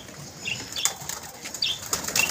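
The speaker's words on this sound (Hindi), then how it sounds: "जल्दी जल्दी कबूतर जा रहे हैं" Pigeons flapping their wings as they fly off: quick bursts of wingbeats close by, several flurries one after another.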